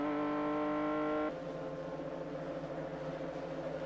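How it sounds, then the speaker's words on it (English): Barber Dodge Pro Series race car at Chicago, 2001: a steady high engine note drops abruptly on a downshift, then settles into a lower, wavering throttle-feathered drone through the corner, loud and continuous with no talk. "Listen for the downshift. Feathering the throttle in the middle of the corner and back to throttle."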